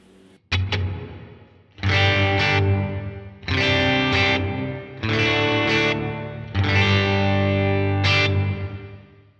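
Electric guitar rhythm tone played through the Plateaux shimmer reverb on a Line 6 HX Stomp: several loud strummed chords ring out in turn, each with a sustained, processed reverb tail, no talking.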